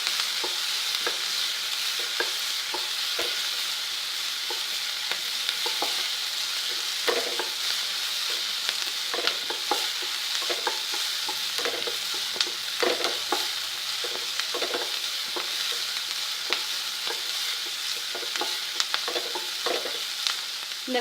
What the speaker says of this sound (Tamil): கொஞ்சம் கூட வணக்கிடலாம்.